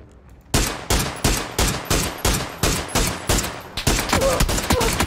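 Gunfire in the video game PUBG: a rapid series of about a dozen loud, sharp shots in an uneven rhythm, close and dominant, with no talking over it.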